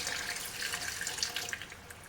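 Pork stock poured into a cooking pot for pork humba, a soft continuous splashing stream of liquid lasting about two seconds, fairly quiet.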